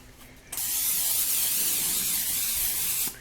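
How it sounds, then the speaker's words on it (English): A spray bottle fires one long, steady hissing burst over a pan that will hold eggshells, starting abruptly and holding nearly three seconds before cutting off, close and loud. "So, I'm going to grab our spray again."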